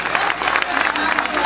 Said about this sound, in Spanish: Gracias por su aplauso.